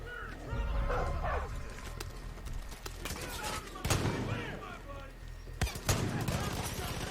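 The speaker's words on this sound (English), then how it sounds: "This is a shotgun. You kill my dog, I take your life." Shotgun blasts and a barking dog in the video game Far Cry 5, loud bursts of gunfire with yelping and barking in between, mixed with game noise and a voice speaking.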